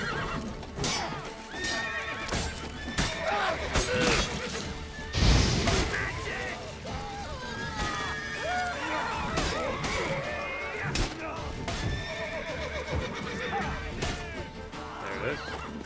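Roach, the horse in The Witcher 3, neighing and whinnying again and again over clip-clopping hooves and clashing combat noise, loud and close, with game dialogue mixed in.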